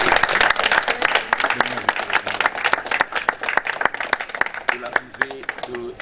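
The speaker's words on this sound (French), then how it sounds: "nous demandons à tout le monde de l'applaudir très fort" A crowd at a school claps loudly to welcome an arriving official, with sharp, uneven hand claps throughout and voices talking and calling out over the applause.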